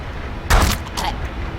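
A musket gunshot in the video game Hard West: one loud, sharp blast with a brief trailing echo, then a softer second report about half a second later.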